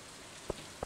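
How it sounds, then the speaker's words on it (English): Rain falls in the Stardew Valley farming game, a steady soft hiss of rainfall with a couple of distinct droplet taps, fairly quiet and continuous. "Raining today."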